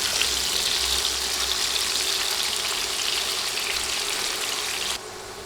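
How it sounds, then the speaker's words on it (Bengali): Potato pieces fry in oil with a little salt over a medium flame, giving a continuous close sizzle that carries on steadily before dropping slightly quieter at the end. "আলুগুলো তেলে দিয়ে সামান্য লবণ দিয়ে দিচ্ছি এবার নেড়ে নেড়ে আলু ভেজে নেব"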